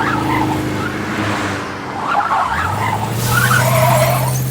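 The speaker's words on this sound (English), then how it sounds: "screeching tyres going around corners" Car tyres screeching around corners, loud sustained squeals rising and falling over engine noise as a car moves through turns.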